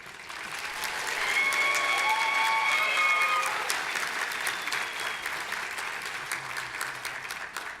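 Graduation ceremony audience at Victoria University applauding steadily, a dense wash of clapping that swells over the first few seconds and then tapers slightly, with some scattered cheering mixed in.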